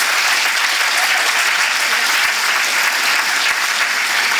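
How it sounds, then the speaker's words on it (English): A dinner audience at a chamber of commerce annual dinner gives a round of applause for painted artworks, dense steady clapping from a crowd for about four seconds. "Another round of applause for Evan Struck."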